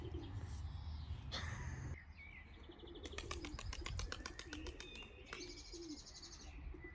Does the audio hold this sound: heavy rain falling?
no